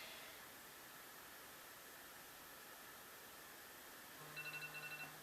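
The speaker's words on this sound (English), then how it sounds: "That's my alarm." A phone alarm starts beeping in a quick repeating pattern near the end, after several seconds of faint steady hiss.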